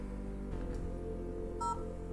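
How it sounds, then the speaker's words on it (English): A short electronic phone beep rings out over a low steady hum, with a couple of soft tones before it. "your phone beeping at my ass"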